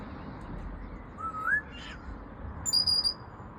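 A pet parrot whistles in a garden with a few short rising and trilling whistles, moderately close, over low outdoor background noise; no one speaks.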